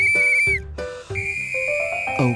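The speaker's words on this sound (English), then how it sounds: "A whistle." A toy whistle blown in a series of short shrill toots with brief gaps, some notes sliding and wavering, loud and close with no talking.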